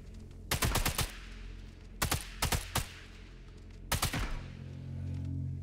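Rifle gunfire at a rifle range in the video game Sniper Elite 5 comes in three loud, sharp bursts of rapid shots separated by short pauses, over a low game ambience with no talking.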